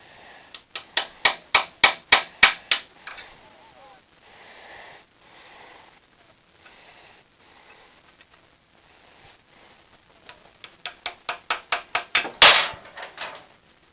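A small chisel is hammered on a Honda SH300i scooter in two bursts of sharp, rhythmic metallic taps, one early and one later that ends in a harder strike, with quiet scraping in between.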